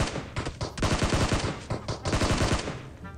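Rapid gunfire from the video game PUBG Mobile rattles off in dense, close bursts of quick shots with brief gaps between, ending abruptly.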